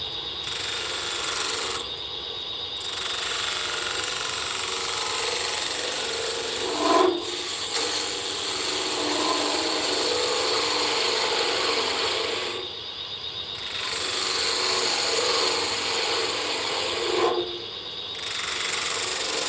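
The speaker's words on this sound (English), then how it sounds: "Just freshen the edge up on my little spindle gouge." A spindle gouge cuts cherry wood spinning on a lathe, giving a continuous rough scraping hiss with a few brief, brighter bursts spaced several seconds apart.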